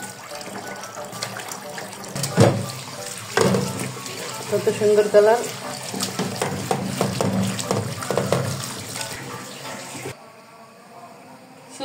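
Boiled chicken liver washed under a running tap: water streams and splashes steadily into a vessel, with handling clatter and bursts of louder flow, while someone talks over it before the sound cuts out near the end.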